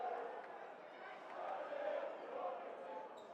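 Stadium crowd at a local derby sports match cheering and roaring in a steady, dense wash of voices that swells and holds for a few seconds, fairly distant.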